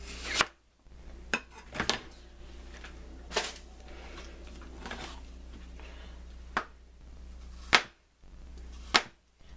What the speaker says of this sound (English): So I'm going to cut them into slices.